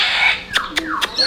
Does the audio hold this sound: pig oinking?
no